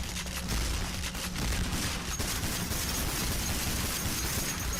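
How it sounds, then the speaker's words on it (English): Loud, dense gunfire from a Payday 3 shootout, with continuous overlapping shots and bursts filling the whole stretch, plus occasional sharper cracks and possible glass shattering, and no talking. "the gunshots are so fucking loud you can't hear anything"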